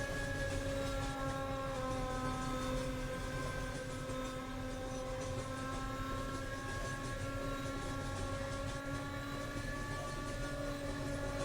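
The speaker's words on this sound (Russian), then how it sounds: "мы проезжаем депо пригородных поездов и следуем далее" Roblox train rolling past a suburban train depot, a steady loud rumble with sustained tonal hum layered over it, continuous throughout with no talking.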